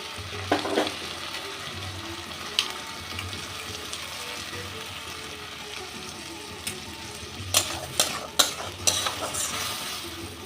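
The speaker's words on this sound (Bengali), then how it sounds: "এবার দিয়ে দেবো টমেটো বাটা" Tomato paste frying with spices in a pan, a low steady sizzle with a few scattered spoon scrapes and clinks, heaviest toward the end, close and quiet.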